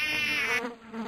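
Cartoon housefly buzzing in a quick, loud, high whine that holds steady, then drops in pitch and fades slightly toward the end, with no voices over it.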